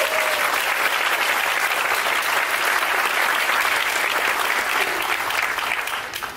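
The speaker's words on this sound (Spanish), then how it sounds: "Un fuerte aplauso ahí para todos los líderes aquí presentes." Strong, steady applause from an audience honoring the leaders present at a network-marketing event, loud and continuous before tapering off at the very end.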